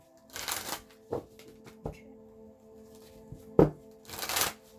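Playing cards riffle and slap in a quiet room, several short bursts of shuffling with soft taps as cards are drawn and set down, close and clear with no speech.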